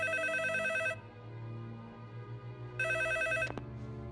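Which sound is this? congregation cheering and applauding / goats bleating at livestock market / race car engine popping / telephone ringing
telephone ringing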